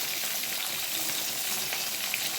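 Ghee sizzles and crackles in a hot pan of shukto, a Bengali vegetable dish with dry-roasted cumin, coriander and fennel, giving a steady close frying hiss with no voices.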